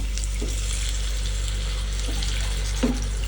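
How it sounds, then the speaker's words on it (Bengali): A steady stream of water pours into a cooking pot of Silond catfish curry, a soft continuous splashing hiss with a couple of faint clinks. "এখন আমরা এখানে পানি দিয়ে দেব"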